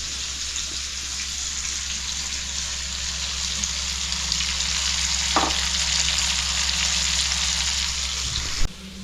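Prawns fry in hot oil with a steady, even sizzle that holds throughout, broken only by a brief clatter near the end.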